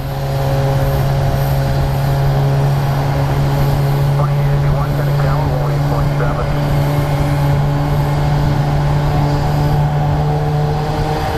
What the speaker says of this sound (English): You can hear a 737 engine spooling.